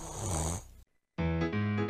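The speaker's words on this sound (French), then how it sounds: "Il ronfle." A cartoon-style snore in an animated fairy tale: two loud, drawn-out snoring breaths close up, separated by a short silent gap, with no talking.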